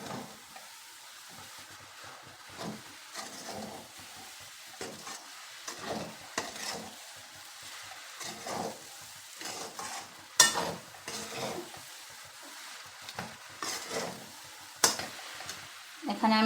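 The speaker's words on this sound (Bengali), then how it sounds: "তো এটাকে ভালো করে মিশিয়ে নিতে হবে" A vermicelli barfi mixture with khoya kheer is stirred in a pan: soft, irregular scrapes and light sizzling, with a few sharper clinks toward the end, all fairly quiet and close.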